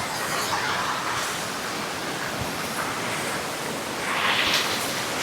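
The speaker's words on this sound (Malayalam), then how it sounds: "വെള്ളത്തിൻ്റെ സൗണ്ട്" Rushing water from a waterfall hidden in forest near Kollam makes a steady broadband roar that fills the whole span, swelling slightly louder near the end, with no voices over it.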